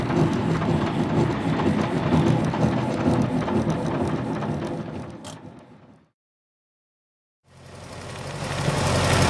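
The engine of a 1924 Dodge 116 Tourer runs with a loud, rough, steady chug, then dies abruptly into silence for over a second before catching again and revving back up.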